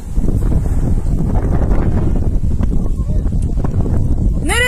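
Strong wind gusts straight into the microphone during a wildfire in İskenderun, Turkey, a loud, buffeting rumble that runs throughout with no speech.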